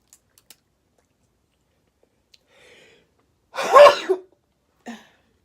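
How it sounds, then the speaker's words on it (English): One short, sharp sneeze bursts out in a quiet kitchen, followed by a brief breathy sound, close and alone. "But I gotta sneeze."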